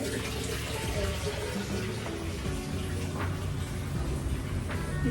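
Tap water runs steadily to fill a bath, giving a continuous close rushing and splashing stream under a faint voice.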